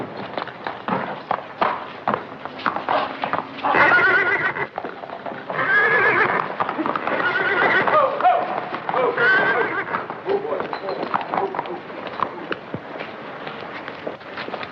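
A horse whinnies repeatedly, loud and close, and its hooves clip-clop steadily underneath. The scene is an old Western set in Santa Fe.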